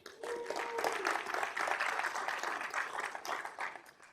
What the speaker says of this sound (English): perhaps a round of applause for her